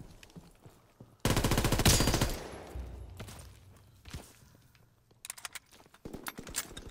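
Gunfire in Call of Duty, a loud dense burst of rapid shots for about a second, then scattered quieter shots and footsteps, with further bursts of firing near the end.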